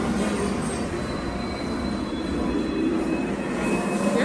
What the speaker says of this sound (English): Oh, subway.